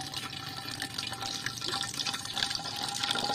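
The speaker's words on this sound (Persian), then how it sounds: "تا نیمه از آب پر کنید" Water pours steadily into a one-litre container while a homemade natural aphid spray is mixed, giving a continuous, close splashing and trickling fill with no talking.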